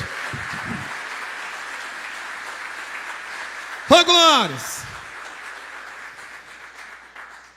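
Church congregation's steady broadband clapping for Jesus runs through the whole stretch, with a voice calling out briefly in the middle and a few hand claps near the start.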